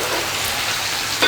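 Vegetables sizzle steadily in a pan, an even, close frying hiss with a small stir or clink at the very end.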